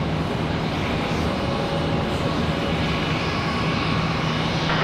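A fixed-wing airliner comes in to land at Charlotte Douglas International Airport, its engines a steady, moderately distant roar that holds evenly throughout with no talking over it.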